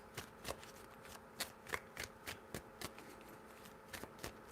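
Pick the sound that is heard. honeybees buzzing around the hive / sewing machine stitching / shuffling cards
shuffling cards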